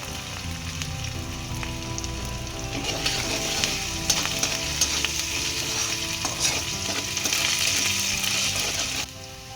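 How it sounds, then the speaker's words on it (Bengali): Cauliflower frying for manchurian sizzles steadily in hot oil, loud and close, while being stirred, with a constant bright crackle and no talking. "ভালো করে ভেজে নেব আমি।"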